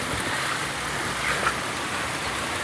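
Sea waves wash continuously around a small boat on open water, a steady broad rush of surf and wind with no voices.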